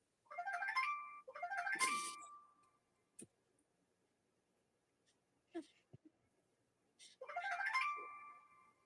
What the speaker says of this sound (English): notifications coming in